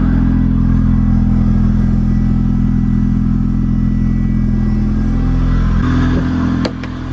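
A Honda CRX engine with a swapped B18C Type R engine runs steadily at a low idle, loud and close, with a brief rev and a shift in tone near the end.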